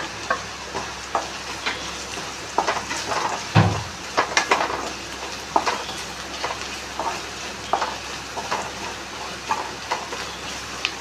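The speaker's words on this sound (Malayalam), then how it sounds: "വെച്ച കൂട്ട് ഏതാണ്ട് ഫ്രൈ ആയി തുടങ്ങി" A masala mixture fries in a pan as turmeric, chilli powder and garam masala are added, a steady sizzle broken by repeated scraping stirs and sharp clinks of a spoon against the pan, close up.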